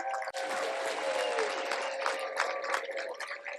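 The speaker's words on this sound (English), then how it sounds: "one huge round of applause for all of our honorees tonight" Audience applause for award honorees at a leadership awards ceremony, a steady wash of clapping from a crowd that holds evenly throughout, with a faint tone running underneath.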